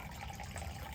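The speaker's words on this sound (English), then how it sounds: "There's one little tiny stream just pissing out right there" A small stream of water leaks through the seal of a backyard dam, a faint, steady trickle and gush that runs continuously without any voices.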